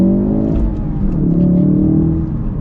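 A Ford Focus RS, all-wheel drive, pulls hard from a standstill with a loud, steady engine roar and rising revs for the whole stretch, no voices over it.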